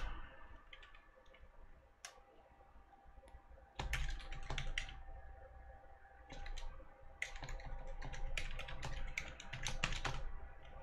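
Quick clattering keystrokes on a computer keyboard as a terminal command is typed, coming in irregular bursts with short pauses and a few louder key presses, close and alone without talk.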